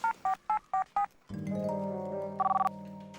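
Telephone keypad dialing tones, five evenly spaced beeps, from a comedy scene where someone calls a doctor, followed by a sustained tonal ring with a short burst of rapid beeps, close and clear with no talking.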